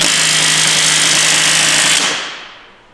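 Impact gun or similar power tool running steadily on skid plate bolts during a track and rail swap, loud and continuous with a high whine, then cutting off and fading at the end.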